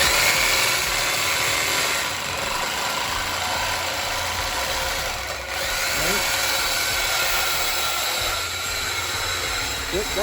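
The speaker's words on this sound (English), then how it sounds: "that's the straight pipe that he's cutting to replace the muffler part" A straight exhaust pipe is cut beneath a car to replace the muffler: a harsh, steady cutting noise runs loud and close for the whole stretch, with a few brief rising whines near the end.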